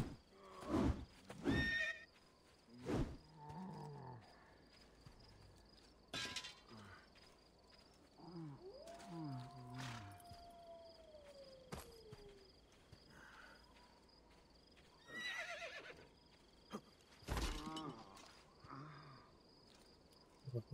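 A horse whinnies once in the middle, with scattered hoof clops, thumps and faint crickets around it in a quiet scene in the video game Assassin's Creed II.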